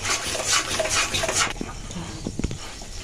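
Spice paste fries in oil in a pan while being stirred, a steady sizzle for the first half and then a few scraping knocks of the spoon against the pan.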